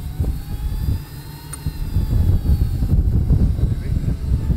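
The jet engine of a jet-powered snowmobile on ice being booted up, a loud low rumbling whoosh that builds after a brief dip and holds steady, close by with no talk.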